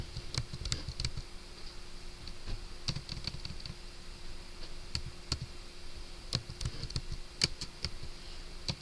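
Keys tapped on a computer keyboard while entering a Cisco switch port access command, in quick uneven bursts of soft clicks with short pauses between, quiet and close.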